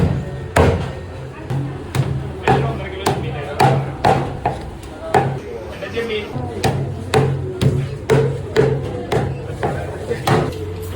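A knife chops fish into equal pieces on a board in a home kitchen. Loud, close, evenly spaced thuds fall about twice a second, with a voice faintly present under some of the strikes.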